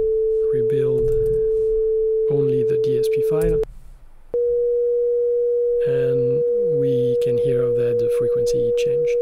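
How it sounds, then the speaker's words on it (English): A steady pure sine tone generated by DSP code holds at one pitch, breaks off briefly, then returns, with a person talking over it throughout. "change the frequency of the sine wave here"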